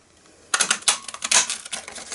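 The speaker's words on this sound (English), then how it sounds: "I'm going to be using this punch, which is the Umbrella Builder punch, and I'm going to use it to cut out" A Stampin' Up Umbrella Builder punch cutting through paper: a quick run of close, crisp clicks and snapping crunches starting after a brief quiet moment, with no talking.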